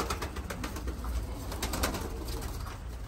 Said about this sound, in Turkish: Bunlar da öyle 3 tane Ermeni kuşu.